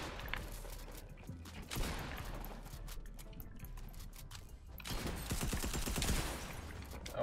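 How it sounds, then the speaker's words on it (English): A light machine gun fires in a video game, with rapid sustained bursts in two stretches separated by a quieter gap, fairly faint overall. "let's try this LMG out"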